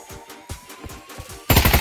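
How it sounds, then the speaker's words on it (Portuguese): Rapid bursts of gunfire from a Pavlov shooter match ring out in a rhythmic string of sharp cracks, growing to a loud, dense volley at the end with no voices. "Caramba, dois atirando!"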